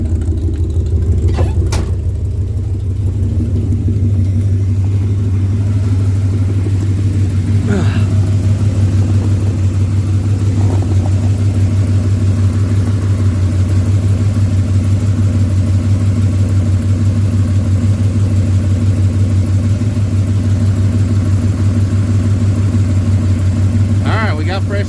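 A 1974 Ford Gran Torino Elite with a leak sits idling steadily, its low engine drone loud and constant throughout, with a few brief clicks and knocks on top.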